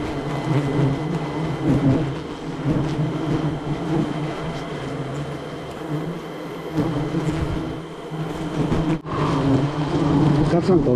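Wild honey bees buzz around their nests in an old banyan tree that holds nearly seventy colonies. The dense droning swarm continues steadily throughout, swelling and fading slightly as the bees move.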